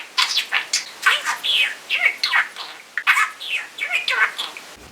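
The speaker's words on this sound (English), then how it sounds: "Mr. Parakeet approves this message." A pet parakeet chirps and chatters in a rapid string of bright, close tweets and squeaky warbles, loud and alone against a quiet room.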